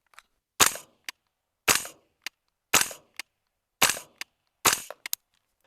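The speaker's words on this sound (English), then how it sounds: "Let's see how the marking cartridges do at 10 yards." Training rifle firing marking cartridges at a 10-yard target: five evenly spaced sharp pops, each followed by a quick smaller click, loud and close against silence.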